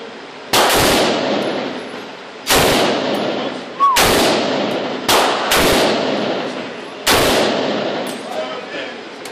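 A Benelli M4 Super 90 shotgun firing six loud, close blasts at uneven intervals of one to two seconds, each booming report decaying into a ringing tail before the next shot.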